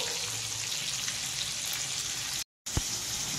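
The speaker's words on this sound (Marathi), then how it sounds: "आपले बोंबील फ्राय होतात तोपर्यंत आपलं बोंबीलचं कालवण बाकी तयार झालंय" Fresh Bombay duck fish fries in a pan with a steady, close sizzle and spatter, broken by one brief silent gap and a single faint knock.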